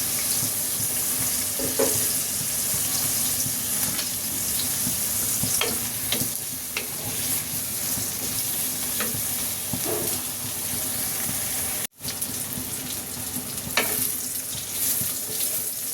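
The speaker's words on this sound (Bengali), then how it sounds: "এটাকে আমি একটু ভেজে নেব, লবণ ছাড়াই একটু ভেজে নেব আগে।" Sliced eggplant frying in a pan with no salt, a steady close sizzle with scattered stirring scrapes and faint watery sounds, continuous throughout with no voices.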